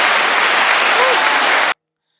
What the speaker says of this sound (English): We gonna clap on that.